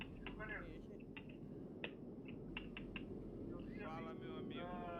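Steady wind rushing in American Truck Simulator with the truck's engine sound missing, a continuous broadband whoosh with brief faint clicks and short tonal blips over it; no voices.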